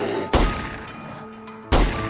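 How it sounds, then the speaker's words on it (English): Two sharp, loud gunshots in a movie scene, about 1.4 seconds apart, each a sudden blast that fades into a short ringing tail. "a gunshot rang out, and the outside fell silent"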